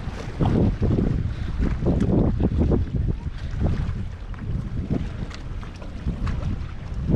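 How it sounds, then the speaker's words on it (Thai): Strong wind buffets the microphone at an outdoor viewpoint in Penang, a loud continuous roar and rumble that surges and eases without a break, with no talking. "ลมดีมาก"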